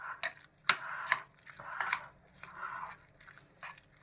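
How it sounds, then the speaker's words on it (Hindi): Pizza burger filling is stirred in a bowl, giving irregular wet clicks and scrapes of a utensil against the dish, close and fairly quiet, in short uneven bursts. "अच्छे तरीके से आपने इसको मिक्स करना है।"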